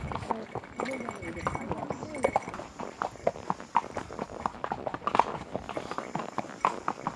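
Horse hooves clip-clop at a steady trotting rhythm, close by, in Matheran, while people talk over the top.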